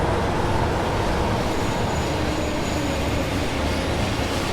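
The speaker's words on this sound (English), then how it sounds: "there's a freight train" Freight train rolling past on the East Coast Main Line in a train simulator game, a dense, continuous roar of wheels and wagons, loud and steady throughout.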